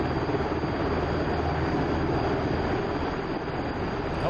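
Simulated Pave Hawk rescue helicopter in a combat flight sim hovering over water, a dense continuous rotor and turbine roar, steady and loud throughout the short stretch.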